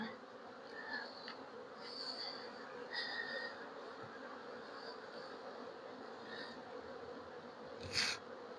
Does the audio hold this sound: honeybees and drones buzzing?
yes